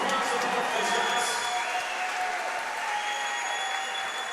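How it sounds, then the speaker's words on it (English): Sustained crowd applause for two fighters after a bout, dense and steady clapping with some cheering that eases slightly toward the end, filling the arena without a break. "How about a round of applause for both these guys?"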